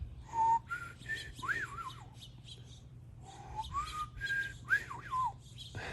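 A person whistles an imitation of a meadowlark call, a few sliding, warbling phrases repeated twice with pauses between, close and clear over quiet background hum.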